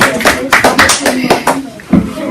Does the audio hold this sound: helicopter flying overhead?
no